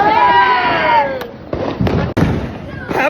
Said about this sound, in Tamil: உங்க பட்டாசு யாரும் வெடிச்சிருக்கிறாரு.